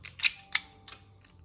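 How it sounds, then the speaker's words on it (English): Tape being applied to join two pieces of paper, heard as three or four short, crisp crackling and tearing bursts close up in quiet surroundings. "I will put the tape on both sides so it's nice and secure."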